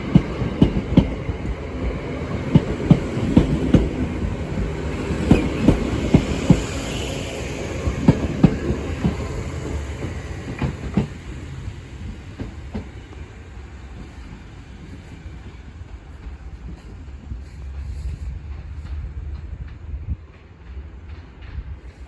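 A Class 317 electric train, unit 317881, passes Bethnal Green station with a rumbling roll and rhythmic wheel clicks over the joints, louder at first and fading steadily as it moves away.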